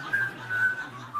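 A person whistles during a cabaret stage sketch, producing short, steady, high-pitched notes that break off and resume several times over a brief moment, with no talking.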